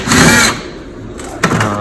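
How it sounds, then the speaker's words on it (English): A power drill driving screws while a c400 handling mechanism is replaced gives a loud close whir that sags, then starts again in a second burst, with no talk. "It's good to use a drill too, because if you use a screwdriver, it kind of takes a little bit longer, but I like to use a drill."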